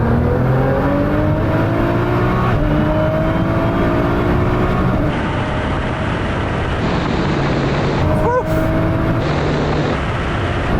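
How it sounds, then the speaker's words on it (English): Tuned Nissan GT-R drag cars, rated from 650 to 1600 horsepower, accelerating flat out in a third-gear roll-on race from 50 mph, a loud sustained engine roar with climbing pitch broken by brief shift dips, no talking. "Sam, what we're going to do this time is 50 mile an hour third gear roll on"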